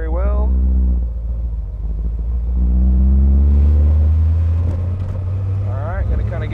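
A 1973 Chevrolet Camaro engine rises in pitch as it accelerates, with a steady low rumble through shifts while someone talks over it.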